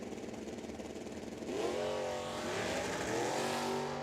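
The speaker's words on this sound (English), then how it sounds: "It's a stock eliminator car, 72 Demon." A 1972 Dodge Demon stock eliminator drag race car at a drag strip, its engine idling loudly and then revving hard into a rising, roaring launch, close and sustained.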